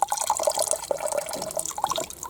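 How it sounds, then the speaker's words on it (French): Water runs from a tap into a water bottle on a hiking trail, a close, bubbling trickle with gurgling, rising drips and no voices. "Après 5 minutes d'attente, à regarder bêtement ma gourde se remplir, je me suis aperçu qu'il y avait un robinet."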